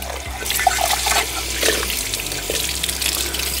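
Tap water runs steadily over a rusty metal piece being rinsed clean after vinegar rust removal, a close splashing stream with small trickling and dripping changes throughout, and no voices.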